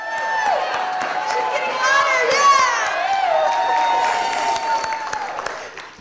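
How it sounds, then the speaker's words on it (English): An audience at a keynote speaking event bursts into loud, sustained applause and cheering, with whoops and high excited voices mixed in, holding steady for several seconds before easing off. "How did you feel when you walked into a round of applause and yay?"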